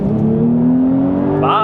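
A Porsche 911 Sport Classic, a turbocharged rear-wheel-drive coupe with a manual gearbox, accelerates hard, its close engine note rising steadily in pitch, with a voice briefly audible near the end.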